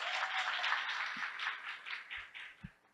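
Faint, distant audience applause at a formal academic health-sciences event, continuous and even throughout, with no talking over it.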